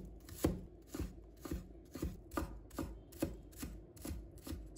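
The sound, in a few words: chopping scallion whites into small pieces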